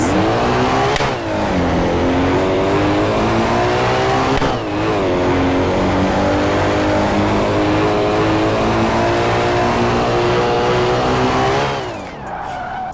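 A modified VW Gol sleeper car in a video game, fitted with a supercharger, roars loudly through a quarter-mile run with a continuous high engine drone, pitch rising and shifting through gears before cutting off near the end.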